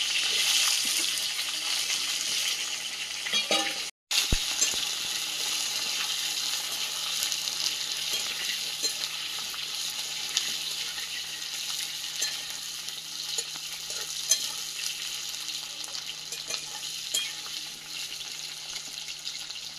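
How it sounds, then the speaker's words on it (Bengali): Malabar spinach stems fry in oil over a wood fire, a steady dense sizzle and crackle running nearly twenty seconds with a brief dropout near the start, close and fairly loud with no talk. "পুঁই শাকের ডাঁটাগুলো ভেজে নেব।"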